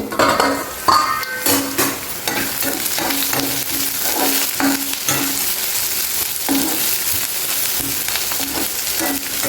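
Buttermilk-boiled bitter gourd (kakarakaya) frying in a pan, a loud close sizzle broken by repeated scraping stirs and metallic clinks of a spoon against the pan, with no talking.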